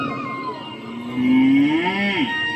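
A played-in effect of a calf mooing: a drawn-out, rising then falling low bellow, fairly loud and close, over a quiet background with no talk.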